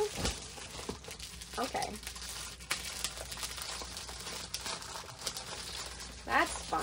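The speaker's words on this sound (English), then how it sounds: "the sheets are in a plastic bag. So I have to take the sheets out to take them out of a plastic bag anyway." Diamond painting art sheets are pulled out of a plastic bag, giving steady close crinkling and rustling throughout, with a voice speaking briefly.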